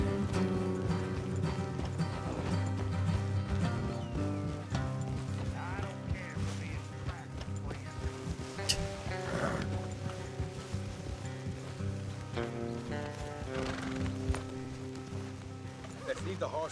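Steady clip-clop of horse hooves galloping along in the video game Red Dead Redemption 2, mixed with a continuous musical score and faint ambient rumble.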